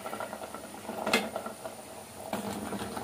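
Sugar syrup made with date jaggery bubbling with pitha cakes in a pot, a low, steady simmer with a couple of sharp metallic clinks against the pot.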